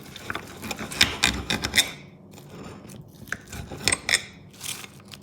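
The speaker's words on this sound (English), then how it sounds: "we'll do a bit of a cut just to see what it's like here" A knife saws through a reverse-seared steak cooked medium rare on a hot plate, making short, close scraping and rasping strokes in two bursts with a brief pause between.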